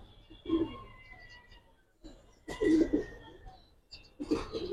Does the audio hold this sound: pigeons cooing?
yes